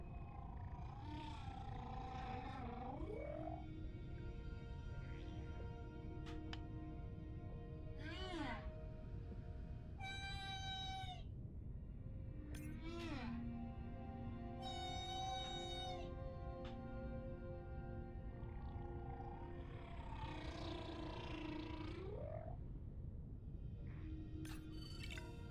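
Whale social vocalizations recorded underwater: a series of rising and falling tonal calls, squeals and upswept whistles, spaced irregularly over a constant low hiss of ocean noise.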